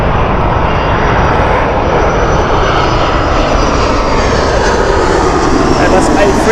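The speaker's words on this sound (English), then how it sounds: "Airbus A330, this one." Airbus A330 jet landing at Heathrow Airport, a loud continuous engine roar filling the clip, broad and steady, growing slightly toward the end, with no clear talk.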